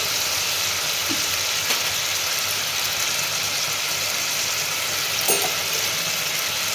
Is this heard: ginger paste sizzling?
yes